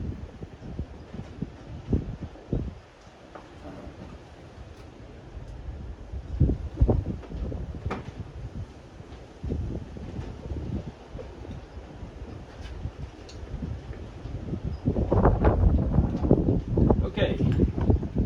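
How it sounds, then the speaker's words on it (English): Strong outdoor wind gusts, reported at up to 50 mph, rumble and buffet against the microphone during a car repair, surging loudest near the end while a person talks. "It's blowing 50-mile-an-hour gusts today."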